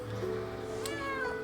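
A cat meows while begging for food: one drawn-out, rising-then-falling meow, close and clear, over a steady low hum.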